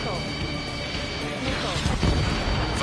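In a flight combat video game, a missile launches with a rising whoosh and rumbling blast about midway, set against steady engine roar and game audio, with a voice speaking over it.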